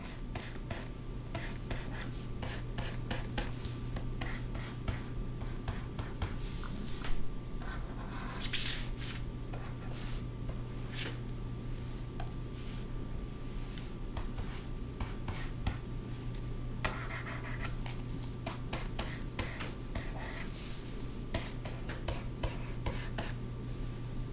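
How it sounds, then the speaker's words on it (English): A flower sketch being roughed in with light drawing strokes: a steady, dense scratch of fine strokes running throughout under a low constant hum, fairly quiet. "And we'll rough in, just drawing lightly."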